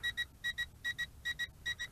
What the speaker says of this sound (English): the battery life indicator has turned yellow. So it is beeping.